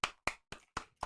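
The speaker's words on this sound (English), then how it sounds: "you get a round of applause" Five sharp hand claps in a steady, even rhythm, each crisp and close, from a single person clapping alone with no other sound between them.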